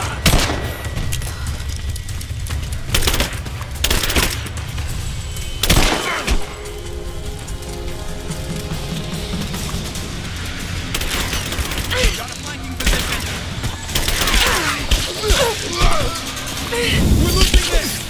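Rapid gunfire and bursts of automatic weapons fire in the video game Rise of the Tomb Raider, with repeated sharp shots and heavy thuds throughout a busy combat scene, under shouted combat voices.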